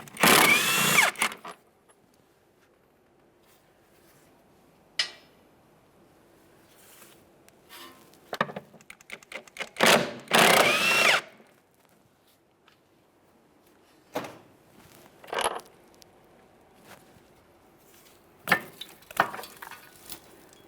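Power tool running in short bursts on the 18mm mounting bolts of the upper shock mount on a 2013-2020 Ford Fusion, separated by quiet pauses and clanks, loud and close in a workshop.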